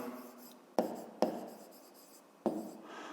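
A pen or marker writes a math solution by hand, with scratchy strokes and three sharp taps as the tip meets the surface, close and fairly quiet with no talking.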